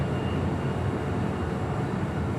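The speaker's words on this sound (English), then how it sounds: "we got that United Dreamliner now starting her roll down 25 right" A United Boeing Dreamliner begins its takeoff roll down runway 25 right at Los Angeles International Airport, heard as a steady, loud, broadband jet roar with no variation over the short stretch.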